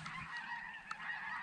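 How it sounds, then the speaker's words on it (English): A flock of geese flying over during a youth duck hunt, honking in overlapping calls at a distance, faint but continuous, with one clearer honk standing out near the middle. "Look at all those geese."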